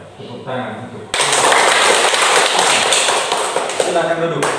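Applause from a room of schoolchildren and teachers at an elementary school, starting after a short stretch of speech and surging into dense, loud, continuous clapping that holds steady and then tapers slightly.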